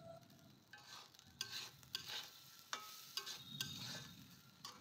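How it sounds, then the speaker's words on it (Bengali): Rice and lentils are stirred and fried in a pan, giving a soft, steady sizzle broken by scraping strokes from the spoon, all quiet and close. "ভালোভাবে একটু নেড়ে চেড়ে ভেজে নেবেন।"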